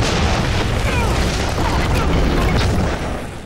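A weapon fires and an explosion follows in a TV drama scene, a loud sustained boom that rumbles and then starts to fade.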